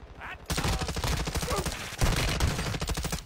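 Loud, sustained automatic gunfire in an online shooter game, rapid rattling bursts with a brief pause midway, close and dominant with little talk over it.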